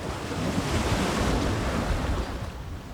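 Elephants, a matriarch and her family, bathe deep in a full rainy-season waterhole on the savannah, making a dense, continuous wash of sloshing and splashing water that holds steady throughout and eases slightly at the end.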